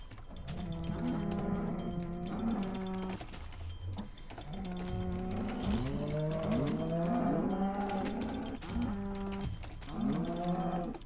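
Cows in a video game moo repeatedly, several drawn-out bellowing calls overlapping in close succession, loud and near, with no talking.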